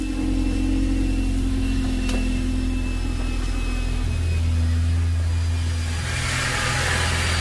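A Ford Mustang engine runs steadily throughout, a loud continuous low hum with a constant whirring tone layered on top and a brief click near the start, with no voices.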